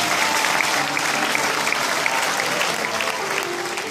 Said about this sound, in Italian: quindi mando alla sua anima un applauso